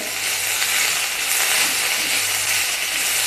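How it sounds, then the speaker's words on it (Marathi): Sliced onions sautéing in a pan over a medium flame, a continuous, fairly loud sizzling hiss with faint stirring, steady across the few seconds, with no talk. "आपल्याला कांदा सुद्धा हा हलक्या ब्राऊन रंगापर्यंत परतून घ्यायचा आहे"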